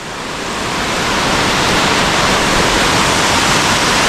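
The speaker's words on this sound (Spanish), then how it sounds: "acá abajo de este puente cae el agua en forma de cascada" Steady roar of a waterfall pouring down under a bridge in Murcia, Spain, a loud dense rush that swells slightly at the start then holds constant.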